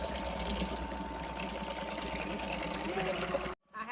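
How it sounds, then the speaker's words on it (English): A battery-operated KitchenAid mixer on high whips a mixture with vanilla extract toward stiff peaks, a close, steady whirring hum that cuts off abruptly near the end. "I'm just going to use my battery operated KitchenAid."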